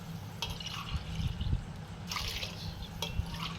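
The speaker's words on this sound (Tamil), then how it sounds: "பாலாகவே நான் எடுத்துருக்கேன், அதனால் பாலை சேர்த்துக்கிறேன், தேங்காய் பால்." Coconut milk poured into a pot of soaked rice while cooking fried rice, a steady low liquid splashing and trickling with occasional drips, close and moderately quiet, no talking.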